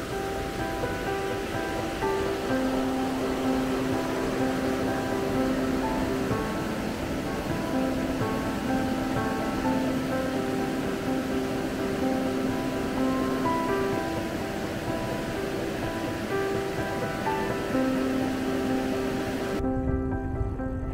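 Water spills steadily over a small weir beside an old water-powered grinding mill at Wipperkotten. A constant, dense rushing wash holds at an even level from start to finish, close by and with no one talking.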